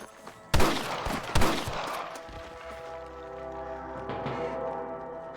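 Sniper rifle fire in Red Dead Redemption: two loud, close cracks about a second apart, each trailing into a ringing echo, then a lower rumbling ambience with faint distant shots.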